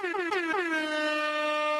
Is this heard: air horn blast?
yes